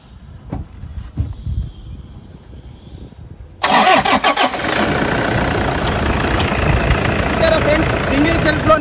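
A second-hand Toyota Innova's engine catches on a single crank after a few faint knocks, then settles into a loud, steady idle close by.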